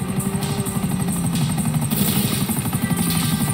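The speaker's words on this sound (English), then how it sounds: "Another chopper." A helicopter in Grand Theft Auto V gives a steady, loud rotor chop and engine drone that continues without a break, with no voices over it.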